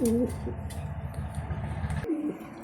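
A lone male racing pigeon coos nearby in low, throaty rolling phrases, with a soft hum of background noise between calls.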